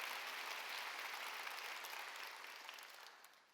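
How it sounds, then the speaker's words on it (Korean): A church congregation claps together during a Wednesday worship service, a soft, distant, even wash of applause that slowly fades toward the end, with no voice over it. "박수로 하나 할게요."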